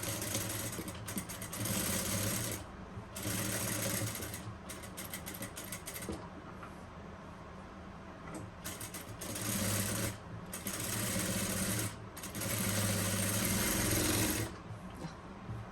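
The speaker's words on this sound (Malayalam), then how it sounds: "നമുക്ക് നെക്കൊന്ന് തയ്ച്ച് എടുക്കണം." An electric sewing machine top-stitches the neck of a frock nighty in several long, fast whirring runs separated by brief pauses, loud and close.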